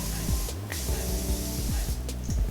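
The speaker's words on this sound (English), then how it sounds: "So I'm just spraying my face with the Dickinson facial mist." A Dickinson facial mist is sprayed onto a face in two or three short, airy hissing spritzes, close and distinct over soft background music.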